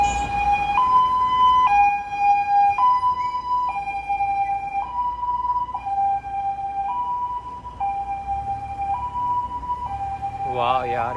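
An ambulance siren wails steadily in traffic on a Chinese road, its two-tone pitch alternating in a regular cycle and staying loud and close, with low road and engine rumble underneath.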